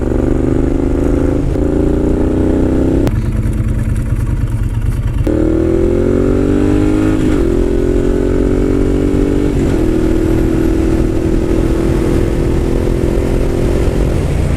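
A Suzuki Boulevard M109R motorcycle engine while riding, a loud close grunty drone that steps up through the gears with rising pitch and a brief throttle-off gap, wind roar running underneath throughout.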